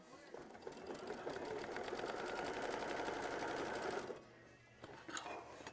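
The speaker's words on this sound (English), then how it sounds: "So go ahead and sew machine stitch step 32" A sewing machine stitches a quilt block in a steady rapid whir for about four seconds, then stops, followed by brief handling sounds and a soft click.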